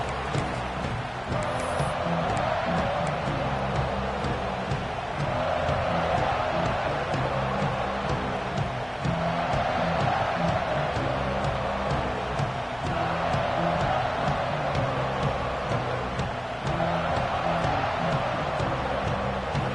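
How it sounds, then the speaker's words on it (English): Stadium crowd at a Notre Dame football game roars steadily and loudly throughout, a dense wall of cheering and noise with swells and no pauses. "This crowd ready to make its presence known."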